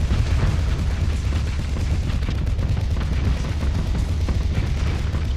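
Harpoon missiles exploding in space combat in the video game Starsector, a dense, continuous roar of booming blasts and rumbling impacts that stays loud throughout.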